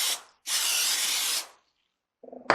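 Cooking spray hisses onto a pan: first a short puff, then a longer, steady burst of about a second. A light clatter of cookware follows at the end.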